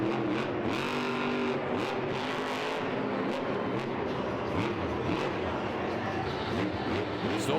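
The Grave Digger monster truck roars through a 2011 Monster Jam freestyle run at Chase Field in Phoenix, Arizona. Its engine noise is dense and constant, with repeated surges and thumps, and it fills the arena alongside crowd noise.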